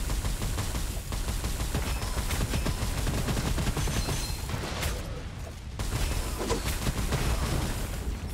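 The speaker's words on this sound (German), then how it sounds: "Ich stehe hier gerade gut unter Beschuss." Dense, continuous gunfire in the shooter game Gunfire Reborn, loud rapid volleys with booming impacts filling the whole stretch, briefly thinning for a moment before resuming, with no talking.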